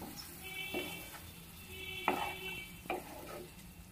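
Spice masala and potatoes stir-fried in a pan for an egg curry, a soft sizzle under intermittent scraping strokes of a spoon against the pan, with a few sharper clinks.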